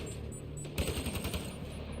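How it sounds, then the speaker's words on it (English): Rapid automatic gunfire from a firefight in Mass Effect Andromeda, bursting in abruptly after a quiet moment and rattling on as a dense, continuous volley at moderate distance. "Who's shooting at me?"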